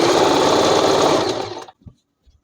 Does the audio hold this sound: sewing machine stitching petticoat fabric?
yes